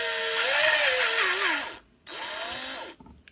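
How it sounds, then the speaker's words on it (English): Power drill boring a hole into a model, two close whining bursts with a short pause between them. "We're just going to put the drill into the hole."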